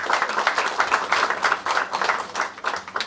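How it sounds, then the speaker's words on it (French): An audience claps together at a presentation of a humanitarian water project, the moderate applause pulsing in a loose, fairly regular rhythm before tapering slightly near the end. "Mesdames, Messieurs, ça s'applaudit."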